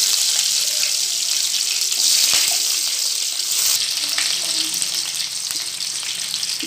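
Fenugreek seeds fry in a pan with a steady, close, hissing sizzle that continues throughout with faint clinks and no talking.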